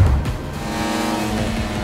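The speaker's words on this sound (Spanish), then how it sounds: "¡El camión está acelerando!" Truck engine accelerating in a chase scene from the film Fast X, a loud continuous roaring rev that climbs steadily with road and tire noise, close and alone without speech.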